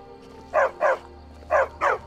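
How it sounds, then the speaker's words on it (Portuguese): A dog barks in Skyrim with Portuguese AI dubbing, giving two quick pairs of barks, loud and close, over a faint steady game hum. "Na versão original ele late woof, woof. E agora ele tá latindo, ó."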